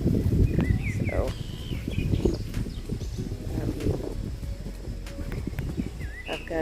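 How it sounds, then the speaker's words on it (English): Many birds chirp and sing outdoors beside a garden and woodworking shop in spring. Short calls are scattered throughout, layered over rustling and low background noise. "as you can hear, there's tons of birds out today"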